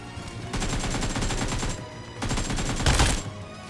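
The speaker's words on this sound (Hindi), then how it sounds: "मेन वाली जगह से काफी ज्यादा फायरिंग की साउंड आ रही थी" Rapid automatic gunfire rattles in a battle royale video game, two sustained bursts with a short pause between, loud and close, with a heavier blast near the end.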